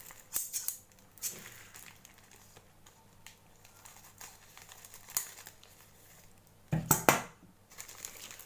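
Scissors cutting open an Amazon cardboard parcel box, close crinkly snips and crunching bursts scattered across the clip, with a louder cluster of cutting and tearing near the end, no talk.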